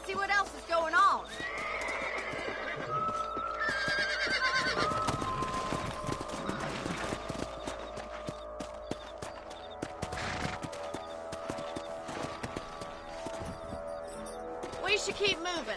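Horses neighing and whinnying with hooves clip-clopping in Red Dead Redemption, mixed with game music and voices talking over much of it, loud and busy throughout.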